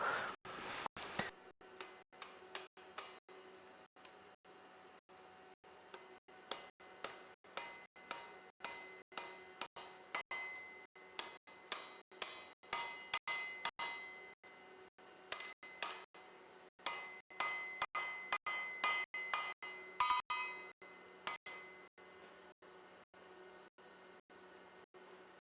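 A hammer strikes blacksmith tong nibs to fit them on 12mm square steel. Dozens of sharp, ringing metallic taps come in a steady, even rhythm, close and clear, over a quiet background.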